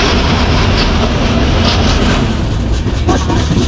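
A crowded passenger train out of CSMT in Mumbai rumbles along with a steady, loud roar and faint rhythmic clatter of wheels on rails, heard from inside a carriage.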